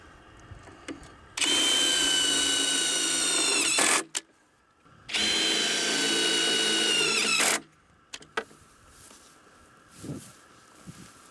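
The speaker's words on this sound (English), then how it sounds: "drive them through the 3 pre-drilled holes in the central support bracket" A power drill drives self-tapping metal screws through pre-drilled holes into a central support bracket, making two loud sustained whines of about two to three seconds each with a short pause between, followed by faint handling clicks.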